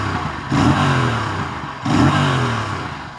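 Aprilia RS457 motorcycle with a 270-degree parallel-twin engine, two loud throaty revs rising and falling close by, each blip swelling then easing off.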